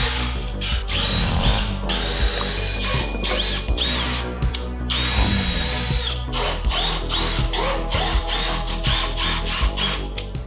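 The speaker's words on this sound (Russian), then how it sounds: "прочищу резьбу во всех болтах М10" A tap cleaning the threads of M10 nuts while assembling a big-block engine test stand, giving steady loud mechanical whirring and ratcheting with repeated bursts and pauses, close up and without talk.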